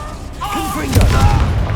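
A Confringo fire spell blasts in Hogwarts Legacy, a single booming burst swelling in the second half of a short moment of combat, with a voice calling out beneath it.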